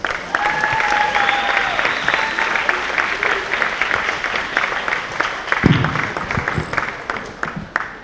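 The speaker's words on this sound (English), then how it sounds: "Let's get one more round of applause." Another round of applause at a school signing day, a steady wash of clapping from a gathered crowd that carries through to the end, with brief voices mixed in.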